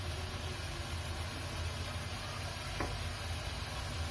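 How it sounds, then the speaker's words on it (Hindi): Matar paneer curry with garam masala being stirred in a pan: a steady, soft hiss of sizzling with faint scraping of the spoon against the pan, continuous and fairly quiet, with no talking. "इसे भी हम अच्छे से मिक्स कर देते हैं।"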